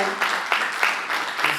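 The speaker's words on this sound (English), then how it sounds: "Give them a round of applause, too." Audience applause at a Cook County Health partners event, a short burst of clapping rising in waves, moderately loud and steady with no talking over it.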